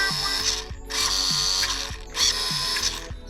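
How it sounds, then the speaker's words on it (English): Steering mechanism of a new RC car whirring in short, loud mechanical bursts, close up, three ratcheting pulses with brief gaps between them. "The sound of the steering."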